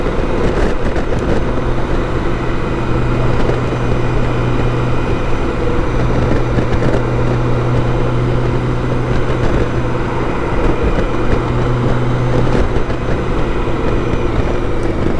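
A BMW K1600 GT motorcycle rides through downtown Ingolstadt with a loud, constant drone of engine and road noise and rushing wind, plus a low steady hum, all continuous and close throughout.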